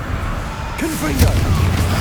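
A Confringo fire spell explodes in Hogwarts Legacy: one sharp blast bursts out about midway, with a character's voice heard alongside it and game sounds continuing underneath.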